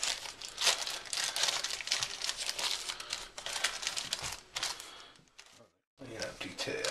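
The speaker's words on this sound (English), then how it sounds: "I'm going to line up this parchment paper." Parchment paper is crinkled, folded and pressed into a baking pan, a dense run of crackling rustles, loud and close, with a brief pause near the end before the crinkling resumes.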